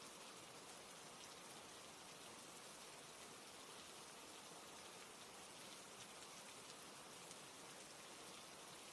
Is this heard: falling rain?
yes